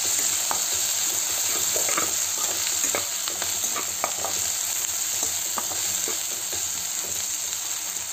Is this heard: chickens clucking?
no